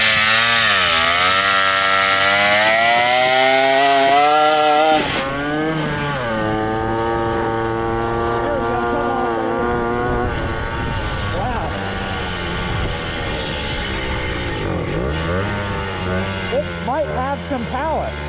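A 1969 Morini 50cc two-stroke mini bike engine revs hard and loud, with its pitch climbing and falling in repeated bursts, and people talk over it.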